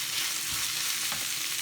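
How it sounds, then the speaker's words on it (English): Vegetables for pulled jackfruit saute in a hot pan, giving a steady, even sizzling hiss up close with faint low stirring bumps underneath. "It's been about 5 minutes and everything's been sauteing."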